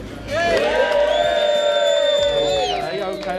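An outdoor crowd at a Ford car show at Beaulieu cheers and whoops loudly for a Ford Cortina, a sustained roar of voices with high shouts rising and fading after about three seconds.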